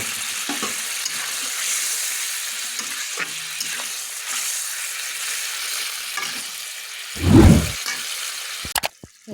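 Fish pieces poured into a hot pan with a little water for Bengali rui shorshe, a steady bright sizzle throughout with a loud splashing thump near the end as the fish goes in, then soft clinks.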